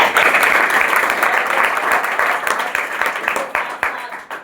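Loud, vigorous applause from a meeting audience, dense clapping with distinct individual claps standing out near the front, gradually thinning toward the end.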